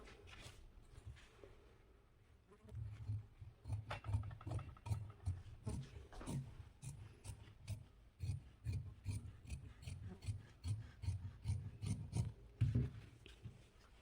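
Saree fabric being cut with scissors for a dress, giving a steady run of close, rasping snips and fabric rubs over about fourteen seconds, with no talk.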